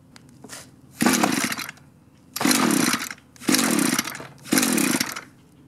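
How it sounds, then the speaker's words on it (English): Echo string trimmer's small two-stroke engine revving loudly in four separate bursts of about a second each, with brief low idling between them, close by, as it catches and runs at different choke settings. "Next, we'll flip the switch on and see if we can get it to start."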